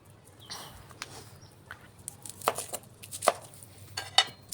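Onions are chopped finely on a board for a spicy village-style fish bharta, a series of light, irregular knife taps close by over a quiet room background, with no talking.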